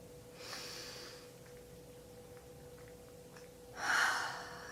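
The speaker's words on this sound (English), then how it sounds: "Taking a deep breath in" One person takes slow, deep breaths in a quiet room. A soft, airy inhale is followed by a stretch of near-silence, then a second, louder, close breath, over a faint steady hum.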